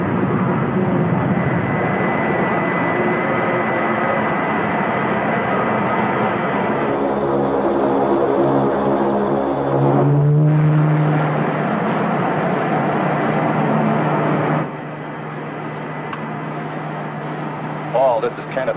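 An orbit jet landing in a radio space drama, a broad roaring engine hum with a rising pitched whine midway that settles into a lower steady drone, loud and continuous with speech over it.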